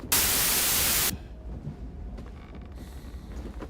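White noise static in Baldur's Gate 3: a loud, harsh hiss bursts for about a second, then cuts off abruptly, leaving a quiet hum with faint creaks.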